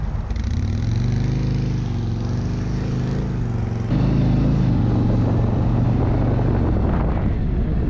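A billiard blue cruiser touring motorcycle at Daytona Bike Week rides with a steady, loud engine drone that swells slightly partway through, with no talking.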